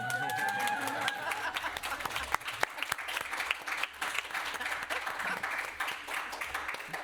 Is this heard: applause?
yes